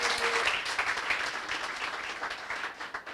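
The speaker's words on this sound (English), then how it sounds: "let's please give a round of applause for our Mayor MOHAMAD Khairullah" An audience applauds for the mayor at a political event, steady clapping with a few louder individual claps on top, fairly close and tapering slightly toward the end.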